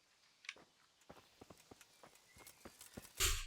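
A horse walks in the Kingdom Come: Deliverance video game, its hooves striking in an even, unhurried series of distinct clops over quiet ambience, followed by a louder burst at the end.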